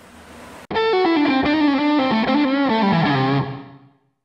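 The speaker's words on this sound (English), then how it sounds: "I will change the model to Lexicon Room and change the level" An electric guitar through a DigiTech RP360 multi-effects unit set to Lexicon Room reverb plays a short bending, distorted lead phrase, loud and close, ending in a brief room-like decay with no speech.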